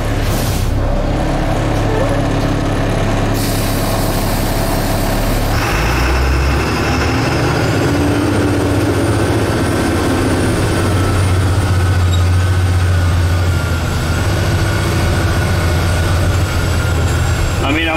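A Freightliner school bus with an Allison transmission drives along, its engine a steady, loud rumble with road noise throughout and a faint rising whine.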